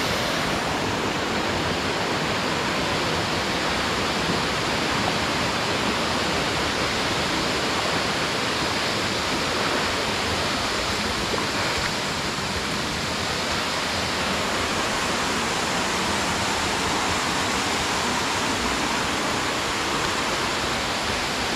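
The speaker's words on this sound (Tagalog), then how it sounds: "Ang bagsak po ng tubig." Balagbag Falls pouring down steadily, a dense, even hiss of falling water that stays loud and unbroken throughout, heard up close with no voices.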